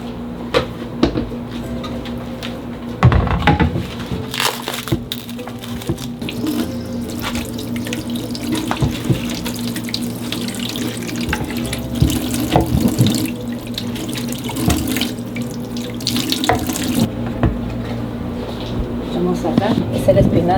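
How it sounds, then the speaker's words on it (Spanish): Water from a kitchen tap pours into a sink as meat is washed for pozole, a steady rush broken by clunks and handling sounds, with a person talking throughout. "Ahora vamos a lavar las carnes porque yo las lavo"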